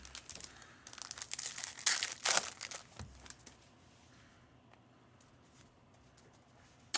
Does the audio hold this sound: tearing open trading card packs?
yes